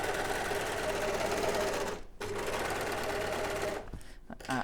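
An Elna overlocker runs fast and loud close by as it trims fraying edges of fine fabric. The steady whir cuts out briefly twice, and no one speaks.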